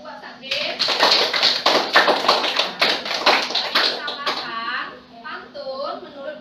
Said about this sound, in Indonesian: tepuk tangan dulu buat Sade.